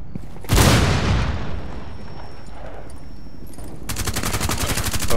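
In Rainbow Six Siege, a loud blast or heavy shot opens and then decays into a rumbling tail, followed by a fast, evenly spaced burst of automatic gunfire near the end.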